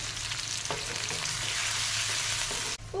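Crushed ginger, garlic and a sprig of curry leaves fry in hot oil for chicken pepper sukka, giving a steady dense sizzle with light stirring clicks that cuts off sharply near the end.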